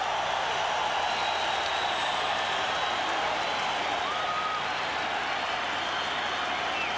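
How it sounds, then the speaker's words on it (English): A boxing arena crowd rises for a standing ovation, a broad wash of applause and cheering that holds steady and loud throughout, with no single voice standing out. "the entire crowd is on its feet in appreciation for what they saw in round 5"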